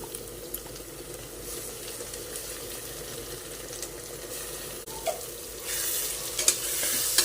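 Ground masala paste of ginger, garlic, cinnamon, clove and dried red chilies sautés with onion in oil for tomato biryani, a low continuous sizzle with light stirring that grows louder and hissier toward the end, close by with no talking.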